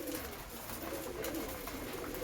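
Pigeons cooing softly in a loft after rain, low repeated coos under a constant hissy background.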